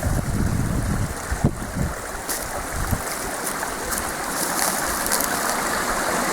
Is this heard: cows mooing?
no